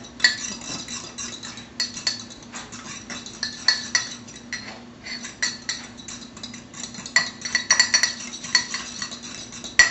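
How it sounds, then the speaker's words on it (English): A fork clinks and scrapes rapidly against a bowl, beating egg yolks in a fast, uneven rhythm, close and fairly loud with no voices. "Beat the yolks."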